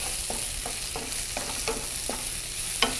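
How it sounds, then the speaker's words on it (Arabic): Red peppers sautéing in a pan make a steady sizzle, with a rhythmic series of about eight stirring scrapes close by. "We will saute for 1 to 2 minutes."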